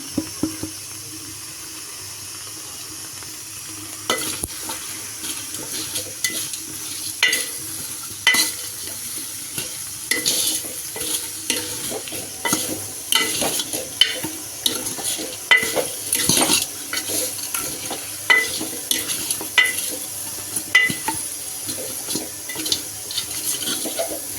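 A spoon stirs pepper powder and chili powder frying in a pan for Tamil mango sambar, giving repeated scraping, sizzling strokes over a soft background hiss that grows busier after the first few seconds.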